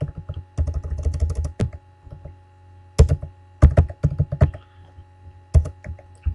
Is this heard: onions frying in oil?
no